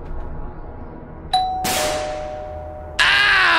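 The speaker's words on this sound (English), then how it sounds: "Oh no, the doorbell's ringing." A doorbell chimes in a sleep paralysis horror game, one clear ding ringing out and sustaining, followed by a burst of harsher noise and a second bright, loud tone.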